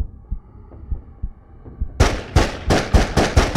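Gunshots ring out in the horror video game Somni, about six loud, sharp bursts fired in quick succession after a stretch of low, thumping heartbeat-like game ambience.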